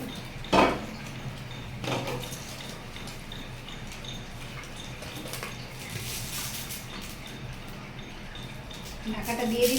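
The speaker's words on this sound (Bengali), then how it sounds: "একটা ঢাকনা দিয়ে দেবো।" A lid set down on a frying pan where chapila fish cooks on a banana leaf gives one sharp clatter near the start and a lighter knock a bit later, over steady low kitchen noise with a voice talking.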